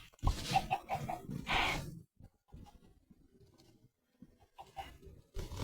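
Chickens in the Minecraft video game cluck in a few short close bursts, then go quieter with faint scattered sounds and a final cluck near the end.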